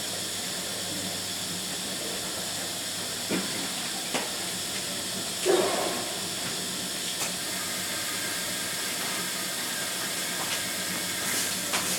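A Semitool 870-S spin rinse dryer runs with a steady, even hiss and hum, broken by a few faint clicks and knocks, with no one speaking.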